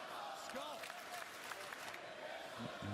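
An NXT wrestling arena crowd keeps up steady cheering and applause throughout, a dense, continuous roar with a commentator talking over it.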